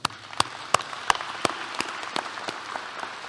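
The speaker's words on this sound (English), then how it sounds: "And let's give them all a round of applause" Sparse applause at a graduation ceremony honoring teachers and administrators, a handful of distinct claps spaced through the moment over a light background wash, moderately faint and without talk.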